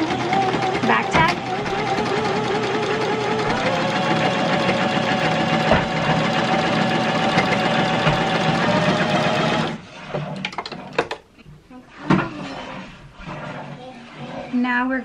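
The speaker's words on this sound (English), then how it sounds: "we're going to sew across that seam line again" A sewing machine stitches across a fabric seam of an 18th-century-style linen shift, running loud and steady for about ten seconds before stopping and giving way to fabric handling and someone talking.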